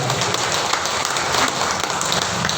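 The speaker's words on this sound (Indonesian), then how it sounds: "Tepuk tangan yang mulia." Audience applause at a diabetes healing gathering in Ciparay, a dense, steady wash of many hands clapping that fills the whole stretch without any talk over it.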